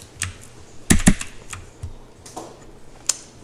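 Computer keyboard keys pressed for a shortcut while working in CAM toolpath software: a close, sharp double click near the start, then a few lighter, scattered taps, with no talking.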